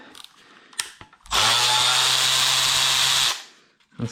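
A power tool runs steadily for about two seconds while removing bolts on a BMW N55 engine during a rebuild: a loud, close, continuous whir with a strong low hum, starting and stopping abruptly between quieter clicks.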